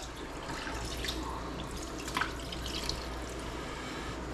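Chicken broth poured into a pot makes a steady, close liquid stream with small splashy bubbling and trickles throughout, no talking.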